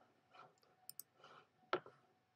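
Several sharp computer mouse clicks while dragging and dropping answer items in a math test interface, a pair of quick clicks then a louder single click, close and crisp with faint low background noise and no talking.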